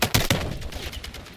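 Gunfire in the Battlefield 6 campaign, a couple of sharp close shots at the start followed by a rapid rattle of further bursts in a short, loud sequence.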